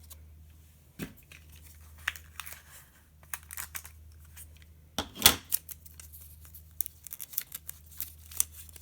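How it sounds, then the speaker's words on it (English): Adhesive tape pulled and pressed down to hold a length of string for a rainbow heart garland, with sharp tearing rips, crinkles and light taps scattered over a quiet background. "I'm going to start by just taping that string down the middle."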